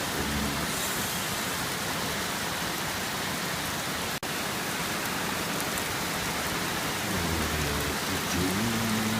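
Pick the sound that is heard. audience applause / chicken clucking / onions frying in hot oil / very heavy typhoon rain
very heavy typhoon rain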